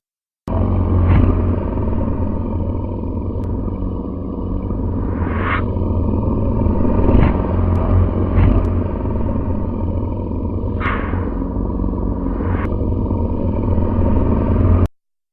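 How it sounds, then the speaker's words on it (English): A deep, continuous rumbling sound effect from a radio drama, loud and steady throughout, with occasional swelling whooshes and faint clicks layered over the low roar, and no voices. "a deep rumbling sound, like a giant dragging its prone, misshapen body across baked, waterless earth"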